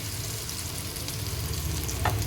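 Masala-coated fish frying in hot oil for a Kerala-style fish fry, a steady dense sizzle with low bubbling throughout and a brief sharper crackle near the end, close and continuous with no talking.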